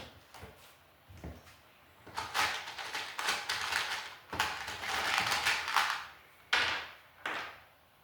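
A clamp being fitted and cranked tight on a store showcase cabinet during outlet installation, giving close, bursty ratcheting and mechanical clicks in several separate runs with short pauses between.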